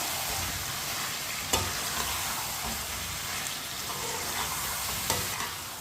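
Potatoes and spices such as ground red chilli, turmeric and lemon juice cooking in a pan, giving a steady sizzle with a few sharp spoon taps and scrapes as they are stirred.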